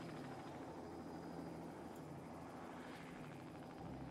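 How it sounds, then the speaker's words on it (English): A Chinook helicopter in the zoo-building video game Let's Build a Zoo flies in with a steady, faint whirring rotor thump that holds throughout. "Why are we flying geese in with a Chinook helicopter?"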